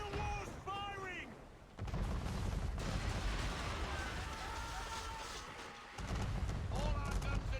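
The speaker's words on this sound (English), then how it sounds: "Man of war's firing!" Cannon fire from a man-of-war warship in Assassin's Creed 3, a sustained rumbling barrage of booms and crackling blasts, loud and continuous over several seconds, with a voice heard briefly at the start.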